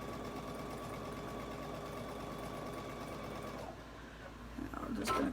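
A sewing machine stitching piping with a pearl and piping foot, a steady rapid mechanical whir close by that pauses briefly before resuming, with a voice talking over part of it.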